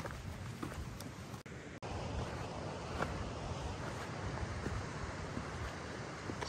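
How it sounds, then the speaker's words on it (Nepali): Strong mountain wind blows with snow flying on a trek toward Panchakunda lake in bad weather, a close, continuous roaring rush with brief gusty surges and no talking. "मौसम खराब भइरहेछ, हिउँ उडिरहेछ, हावा आइरहेछ, चिसो हिउँ उडिरहेछ।"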